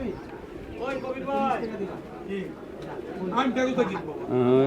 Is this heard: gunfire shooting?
no